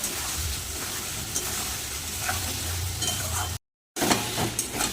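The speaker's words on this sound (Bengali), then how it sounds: "ভালো করে মশলাটা দিয়ে কষিয়ে দেবো" Masala with turmeric and salt cooks down with cauliflower and potato in a pan: a close, steady sizzle with soft stirring scrapes, cut by a brief silent gap before the frying resumes.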